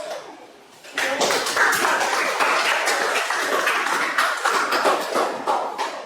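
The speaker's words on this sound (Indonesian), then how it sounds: "Kita beri tepuk tangan untuk kelompok seru" A classroom of junior high students claps for a group, a dense burst of many hands that starts abruptly and continues steadily for several seconds.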